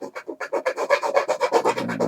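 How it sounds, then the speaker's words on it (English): A fine rat-tail chainsaw file worked lightly by hand on a part of an RC plane, giving a steady run of about twelve short, close rasping strokes in an even back-and-forth rhythm. "what I'm going to do is take a fine rat tail file. Actually, it's a chainsaw file for sharpening chainsaws."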